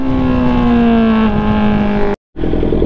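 A Honda CB650R motorcycle fitted with an Ixil carbon exhaust revs hard at high RPM, a loud, steady tonal engine howl that cuts out abruptly for a moment before resuming.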